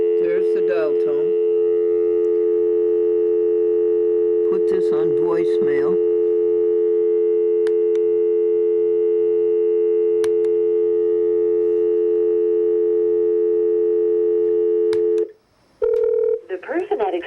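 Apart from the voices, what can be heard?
telephone dial tone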